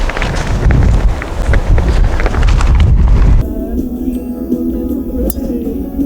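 Wind on a blustery day buffeting the microphone, loud rumbling gusts for the first half, then dropping to a calmer, quieter background with faint distant sounds.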